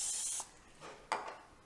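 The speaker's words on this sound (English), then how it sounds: "spray it with just a bit of nonstick cooking spray so it doesn't stick" Nonstick cooking spray hisses into an Instant Pot in a short burst of about 0.4 seconds, then two fainter brief puffs follow. The spray is close and fairly quiet, with no talking.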